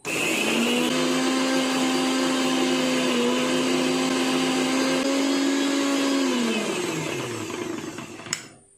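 A kitchen mixer grinder whirs at full power while grinding soaked mustard seeds and green chillies into a paste, a loud steady motor drone that winds down near the end and stops with a faint click.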